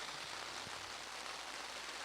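Steady hiss of heavy rain falls throughout a rugby match, a continuous even wash with no break and no voices over it.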